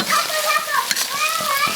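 Beef hits a hot wok with chopped chili and sizzles loudly as it is stir-fried, a close, busy crackle with scraping and tossing throughout, while someone talks over it.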